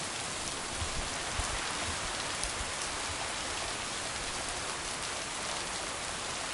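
Rain falls steadily in a farming video game set around a lake, a dense, even hiss of drops on surfaces, soft and constant with no voices.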